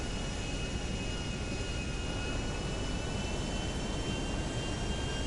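An airplane engine in a GTA game roars as a constant, loud, even drone with a high whine over it, with no one speaking.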